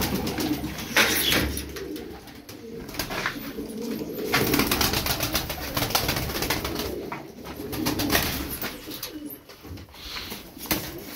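Tumbler pigeons, a flock of play birds, coo continuously and close by, with soft rustling and occasional wing flaps mixed into the steady murmuring.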